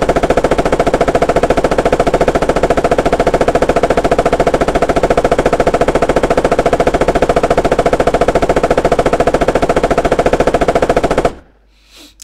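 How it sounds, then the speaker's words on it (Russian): The M240 machine gun on an Abrams tank in the video game Squad fires in one long, loud, unbroken burst of rapid shots, then stops abruptly into near silence. "Я буду стрелять, чтобы посмотреть, на что способен пулемет Н-240 у этого танка против БРДМ"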